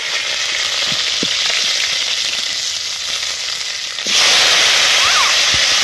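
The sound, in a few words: cauliflower and potato frying in a pan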